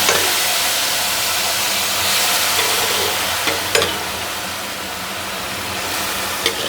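Vegetables fry in ghee with a fennel and green chili tempering, giving a continuous close sizzle with occasional scraping stir clicks and no talking.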